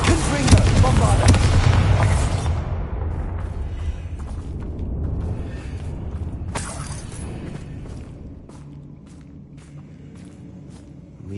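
Spell blasts in a wizard video game: a loud, booming explosion bursts out at the start and rumbles away, then a second sharp crack follows midway, with faint footsteps and ambient rumble trailing after.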